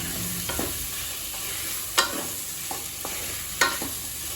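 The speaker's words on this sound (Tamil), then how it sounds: "நல்லா வதக்கிக்கலாம்." Potatoes sautéing with spices in a pan give a steady soft sizzle, broken by a few sharp scraping stirs of a utensil against the metal, with no voices.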